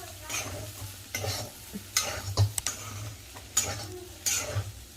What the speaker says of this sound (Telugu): ఇదంతా బాగా కలుపుకోవాలి